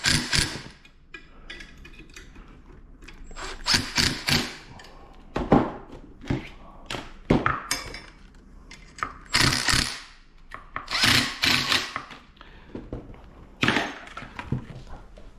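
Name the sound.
10mm open wrench installing motor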